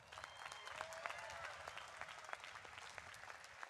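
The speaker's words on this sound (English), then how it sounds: "Let's give them a big round of applause." Sustained applause from a large crowd at a university commencement ceremony, a dense patter of many hands clapping at once, steady throughout.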